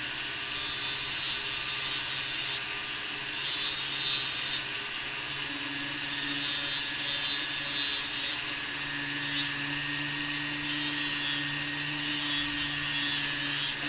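A sander shapes a piece of wood for a box clasp, running in repeated bursts of harsh, hissing abrasion over a low steady hum, with short pauses between passes and no talking.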